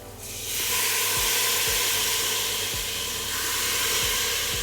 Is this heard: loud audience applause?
no